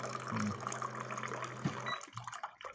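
Water runs from a home water dispenser into a cup, a steady low trickle with a brief gurgle, fairly close, ending abruptly after about two seconds.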